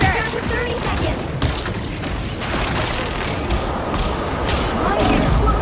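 Exploding plasma in the video game Marvel Rivals bursts amid dense combat noise, with loud rumbling booms and rapid crackling gunfire-like blasts that stay thick and continuous.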